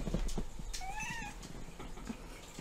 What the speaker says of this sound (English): Hey, we have a kitty.